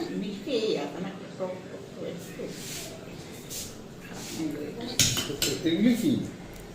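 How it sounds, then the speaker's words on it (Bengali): A spoon scrapes and clinks against a bowl while flattened rice and yogurt are mixed, close by and moderately loud in irregular bursts. People talk over the clinking. "এটাই তো চিরা দই মাখছি"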